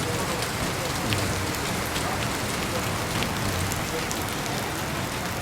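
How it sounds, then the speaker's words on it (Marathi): Rain pours steadily in Mumbai during the first rain of the season, a dense, even hiss of drops on surfaces that holds close and loud throughout. "बघा पाऊस बघा"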